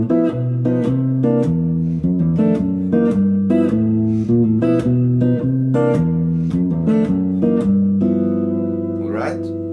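Jazz guitar plays a walking bass line in a triplet feel with chords on top, a steady run of plucked bass notes and chord hits, close and clear, with no talk.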